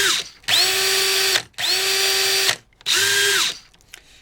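An 18-volt cordless drill is triggered three times in a row. Each burst whines up quickly, holds a loud steady buzz for about a second, then stops sharply with a short pause before the next.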